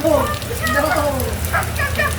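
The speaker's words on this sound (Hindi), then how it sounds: "बहुत तेज हो रही है मेरे सिर के ऊपर से यहाँ से भी पानी गिर रहा है" Heavy rain pours down outdoors in America, with water falling from overhead onto people. A steady, broad hiss runs beneath loud, excited voices that talk over most of it.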